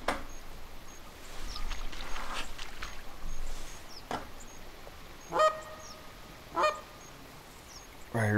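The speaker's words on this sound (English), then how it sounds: "we got another goose coming in." Magpie geese honk in theHunter Classic: two distinct loud honks stand out, each short and nasal, spaced about a second apart against a quiet outdoor ambience, with fainter calls scattered earlier.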